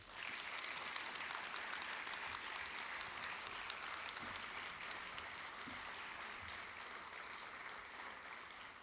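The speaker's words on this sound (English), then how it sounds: "with a round of applause." Sustained audience applause at a Grove City High School National Honor Society induction ceremony, a dense, steady wash of many hands clapping throughout, moderately distant in an auditorium, with no speech over it.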